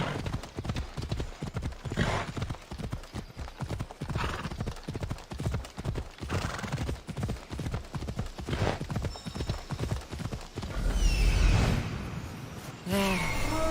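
A horse gallops at a steady pace in Assassin's Creed Odyssey, its hooves drumming in a rapid, continuous clip-clop rhythm up close, with a brief whinny and whoosh near the end.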